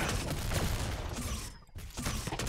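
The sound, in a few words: enemies shooting blindly, video game Galactic Hitman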